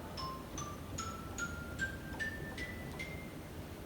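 Xylophone stop on a 1919 Wurlitzer pipe organ playing a slow rising run of about eight bright, short struck notes, evenly spaced and fairly soft against steady room hiss, with no talking.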